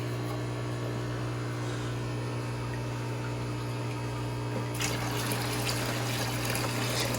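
Water poured quickly from a bucket into a new empty fish tank, a continuous close rushing gush over a steady pump hum that grows brighter and splashier near the end.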